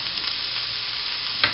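Chopped onion sizzles steadily in hot oil in a pan, sautéed with a pinch of salt for a tortilla-style scramble, a continuous close frying hiss with one brief clatter near the end.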